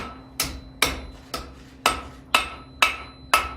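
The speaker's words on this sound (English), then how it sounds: "we're going to come over to the edge of our anvil, and we are going to bend this over" A blacksmith hammers hot metal at the edge of an anvil to bend it over, seven sharp ringing blows at an even, unhurried pace, close and clear with a faint hum between strikes.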